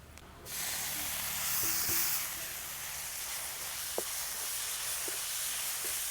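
Tomatoes frying with chopped onion and spices in a pan, a steady hiss and sizzle throughout with a few faint utensil clicks, no talking.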